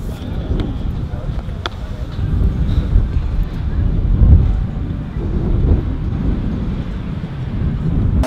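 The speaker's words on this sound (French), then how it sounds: "Il y a tellement de vent que David du coup il est emporté." Strong wind roars and buffets the microphone in low, uneven gusts, swelling and easing without a break.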